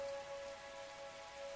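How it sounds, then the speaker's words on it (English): Heavy rain pounds a rooftop outdoors, a steady, dense wash of pattering drops that carries on without a break. "Raindrops are pelting the rooftop all around me, producing a relentless rhythmic beat"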